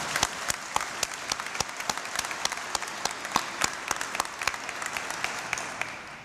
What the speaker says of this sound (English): Please join me in a great round of applause for Governor Cagle.